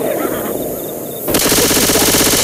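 In the zombie shooter Left 4 Dead 2, guns fire in quick bursts. A brief muffled stretch is followed by rapid automatic gunfire that rattles loud and steady to the end.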